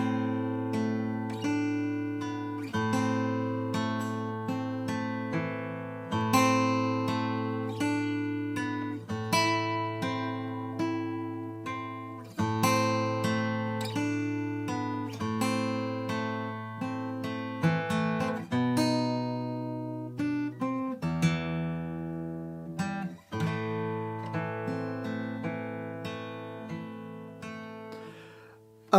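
Fingerstyle acoustic guitar plays a main theme slowly and a little freely, with plucked notes ringing over repeated low bass notes in a steady, gently decaying pattern, heard alone up close.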